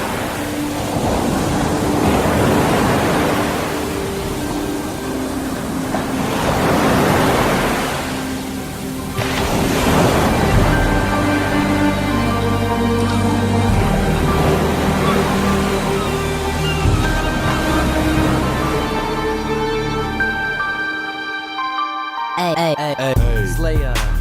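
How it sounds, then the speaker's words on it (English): Ocean waves used as a sound effect to close a sports radio show roll in as broad, surging swells that rise and fall. Music with sustained tones joins partway through, then everything cuts out briefly near the end. "whenever you hear the sounds of the ocean, that means that the Sports Jock Show is coming to a close"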